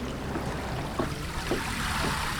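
Soft, continuous water trickling and gurgling close by among oyster-covered rocks on an Indian Ocean shore, with a few small splashy bursts rising out of the steady flow.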